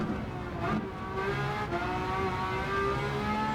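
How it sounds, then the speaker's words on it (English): A fast car in a racing game with a V12 engine, a loud sustained engine roar that rises and shifts in pitch as it speeds past, close and steady throughout. "There's a fast car."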